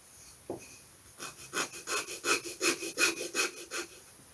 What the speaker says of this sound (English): I haven't sanded the leading edge yet, so I'll do that now.